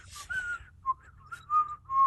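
A man whistles a short tune alone, a series of clear sustained notes with brief pauses between phrases over a faint low hum.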